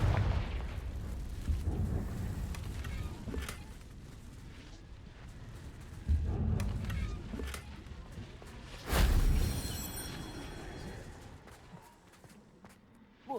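In Hogwarts Legacy, a Confringo blasting spell sets off sharp explosive bursts, with a sudden loud boom near the two-thirds mark and smaller thumps earlier, over quiet ambience between.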